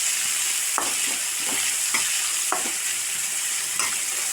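A small onion sliced lengthwise and three green chillies sauté in a pan with a steady, close sizzle, broken by regular scraping stirs about every half second to a second.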